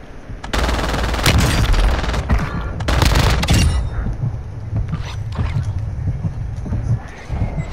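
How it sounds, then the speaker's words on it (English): Mortar strike hitting in a Vondel Resurgence duos match: a dense, loud barrage of sharp blasts and crackling bursts up close, fading into scattered distant pops and wind-like rumble. "Copy that. Mortar strike inbound."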